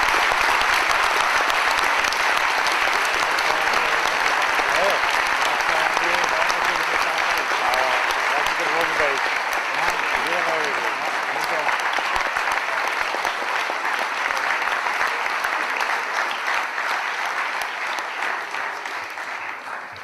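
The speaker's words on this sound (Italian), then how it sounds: "È per questo che voi adesso dovete fare un applauso lungo" Long, sustained applause from a large audience at an Italian live talk event, dense and loud throughout the full twenty seconds and tapering slightly toward the end.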